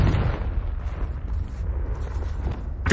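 A Confringo fire spell blasting in Hogwarts Legacy, a heavy boom that rumbles and decays over a few seconds before a sharp fresh burst at the end.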